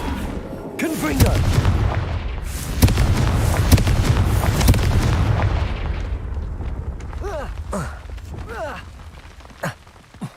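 Repeated fire-spell explosions in the video game Hogwarts Legacy, booming bursts with crackling debris that fill the first several seconds, then fade into quieter whooshing effects and a few sharp impacts near the end.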